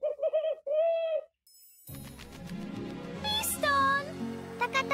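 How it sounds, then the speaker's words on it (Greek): In a cartoon camping scary story, an owl gives a few clear, tonal hoots at the start. A short silence follows, then busier layered sounds and high calls continue. "Μια κουκουβάγια."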